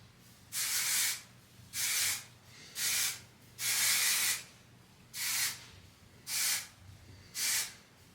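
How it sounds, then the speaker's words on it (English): Hair product sprayed onto dry hair before flat ironing: seven close, loud bursts of spray hiss, each under a second long, separated by short quiet pauses. "So I just sprayed this when my hair is dry before I flat iron it."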